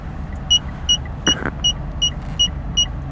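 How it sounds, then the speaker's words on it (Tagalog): Car parking sensor beeping while parallel parking, a regular series of short, bright electronic beeps spaced about every half second, with a brief whirring motor sound in the middle over a low engine hum. "kasi sensor yan ng sasakyan ko. Pag nadikit kasi, tumutunog na yung sensor."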